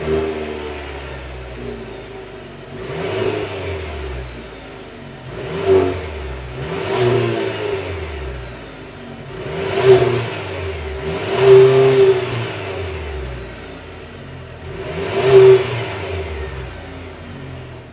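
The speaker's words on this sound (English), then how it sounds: "let's fire up this 2-liter turbocharged 4-cylinder engine and hear how she sounds" A Cadillac CT4's 2-liter turbocharged four-cylinder engine revs up repeatedly, about six rising blips spaced a few seconds apart that fall back to a steady idle between them, close and loud with no talking.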